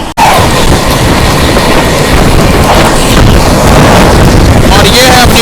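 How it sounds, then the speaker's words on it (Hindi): The Purva Express and the Prayagraj Express pass each other on the Delhi to Prayagraj line, heard as a loud, continuous roar of wheels and rushing air close by, with a faint rhythmic rattle throughout. "और भाई ये है अपनी पूर्वा एक्सप्रेस, प्रयागराज एक्सप्रेस की क्रॉसिंग हुई अभी।"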